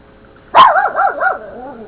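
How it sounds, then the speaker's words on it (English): A single loud, close dog bark breaks out, then trails off in a wavering, whining tail lasting about a second. "That's my dog."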